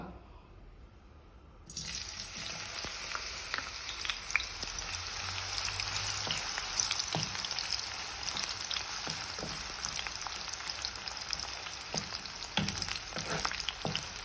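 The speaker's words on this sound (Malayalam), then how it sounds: "വെറുതെ പച്ചക്കന്നെ ഡയറക്റ്റ് നമ്മൾ വറക്കാണ്" Raw bitter gourd frying directly in hot oil with no salt or turmeric, a loud continuous sizzle starting abruptly after a quiet moment, with scattered pops and scraping taps of a spatula throughout.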